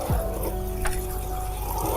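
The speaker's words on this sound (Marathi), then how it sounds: "रस्त्यावरती खूप माती येते आतमध्ये, म्हणून पाणी मारत काम चालू आहे" Water sprayed from a hose onto the ground at a farmhouse to wash away soil, a steady close hiss and trickle running throughout with a faint low hum underneath.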